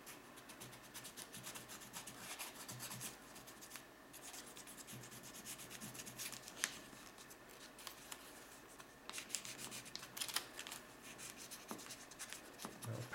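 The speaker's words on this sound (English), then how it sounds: "So I will paint with crayon." A crayon rubbing back and forth across origami paper while coloring a paper penguin: a soft, continuous scratchy stroking, close and quiet, with brief louder swipes.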